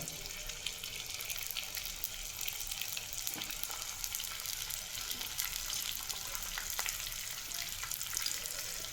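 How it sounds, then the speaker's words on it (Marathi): Small pieces of edible gum dropped into hot ghee sizzle and puff as they fry for methi laddu, a continuous close crackling hiss with faint pops scattered throughout and no talking. "त्याचा थोडा थोडा डिंक घ्यायचा आणि या तापलेला तुपात टाकायचा आणि बघा असं टम्म फुटतो कसा तो"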